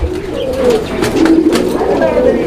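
A pigeon on a fancy-pigeon farm coos steadily while laying an egg, a close, continuous low throaty warble with a few brief clicks and rustles around it.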